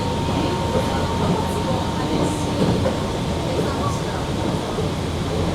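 A train rides toward Dotonbori Namba in Osaka, heard from inside the car as a steady, loud rumbling roar with faint wheel clatter. A voice is briefly audible under the noise.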